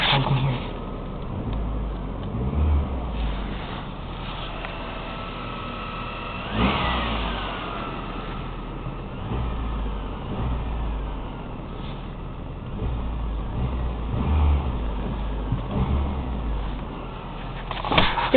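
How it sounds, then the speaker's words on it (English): A 1994 Toyota Camry LE engine on a snowy cold start, running steadily and then pushed through several quick revs that rise and fall, the engine close and loud throughout with no talking. "see if we can get a few quick revs out of it"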